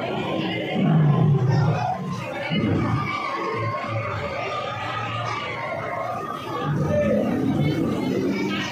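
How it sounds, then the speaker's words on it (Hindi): Dense crowd chatter and murmuring fill a busy shopping mall, Orion Mall in Gorakhpur, on New Year's Day, with scattered chuckles in a steady, close hubbub. "नया साल के दिन बहुत ज़्यादा भीड़ था"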